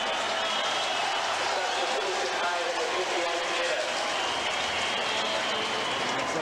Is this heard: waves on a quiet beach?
no